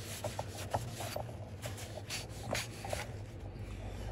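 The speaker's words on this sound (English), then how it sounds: "sometimes you need a screwdriver to go in the groove to assist with the scraping out of the detritus" A screwdriver scrapes dirt and debris out of the groove in a Maglite flashlight cap, making close, faint rasping scratches in uneven short strokes over a steady background hiss.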